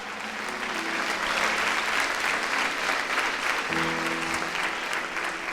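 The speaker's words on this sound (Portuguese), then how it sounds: "Quantos podem aplaudir ao Senhor?" A church congregation applauds for the Lord in a thick, sustained wash of clapping, close and full, while low held keyboard notes hum softly beneath.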